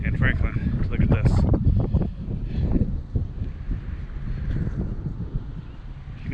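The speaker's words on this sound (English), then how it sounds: "I don't know if you guys can hear because it's so windy" Strong wind buffets the microphone during a motorcycle ride near Franklin, loud gusty rumbling that surges early and then settles into a steadier roar, with someone talking through part of it.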